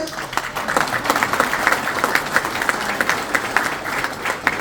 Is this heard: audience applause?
yes